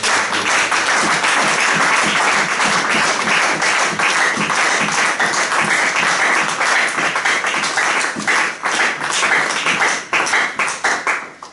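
A church congregation cheers and applauds loudly and steadily, dense clapping filling the room without a break before thinning slightly toward the end.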